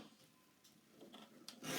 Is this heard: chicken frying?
no